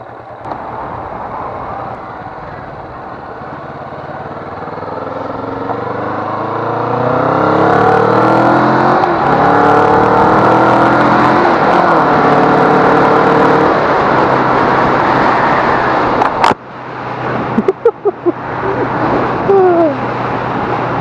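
A Kawasaki Vulcan S V-twin motorcycle being ridden, its engine droning low then rising as it accelerates through gears, loud and close with wind rush, ending in a few brief knocks and clatters.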